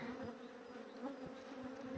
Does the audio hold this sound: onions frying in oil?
no